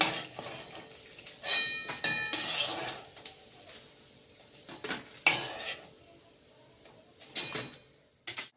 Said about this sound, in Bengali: কড়াই বসিয়ে দিলাম রান্নার জন্য।